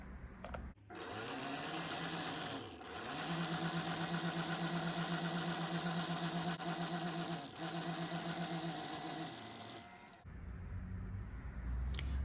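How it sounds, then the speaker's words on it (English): An Elna SU sewing machine winds a bobbin with a steady, loud mechanical whir that runs for about nine seconds and then cuts off, with no voices. "You're going to let the thread wind around the core of the bobbin a few times"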